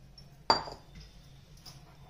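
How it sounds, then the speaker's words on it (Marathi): A large bowl is set down on a counter with one sharp, ringing clink, followed by a short fading resonance and quiet kitchen background. "आता एक बाउल घेते मोठा"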